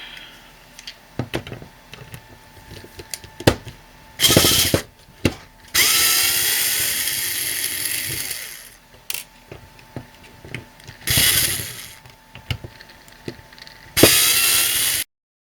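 A power screwdriver bit spins out screws from a WDC desktop hard drive being dismantled, several loud close whirring bursts of a second or two each, separated by quieter clicks and handling noise.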